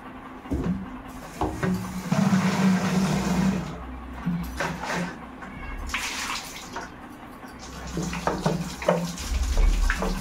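Water splashing and pouring while a water drum is washed out, a close, uneven run of gushes and sloshes with a faint engine-like hum beneath and no clear talking.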